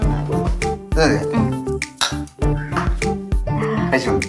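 A spoon clinks against a dish in a home kitchen: several sharp, bright taps and scrapes ring out at close range, interleaved with people talking nearby.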